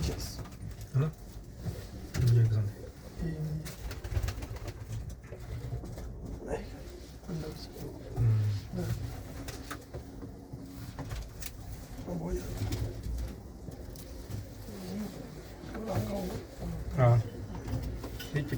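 Soft, deep cooing from well-bred pigeons comes in short bursts here and there, mostly under ongoing conversation between men.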